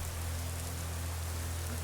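Hard, constant rainfall from the Skyrim video game fills the scene as a thick, even wash of drops over a low rumbling drone, with no speech.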